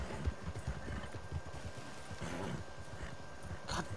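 Horse hooves clip-clop in a video game, a rapid run of soft, close hoofbeats over a faint background with no clear speech.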